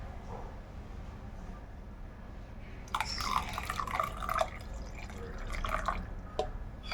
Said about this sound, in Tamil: நெக்ஸ்ட்டு வந்து இந்த கப் அளவு பால் வந்து மில்க் ஆட் பண்ணுறேன்.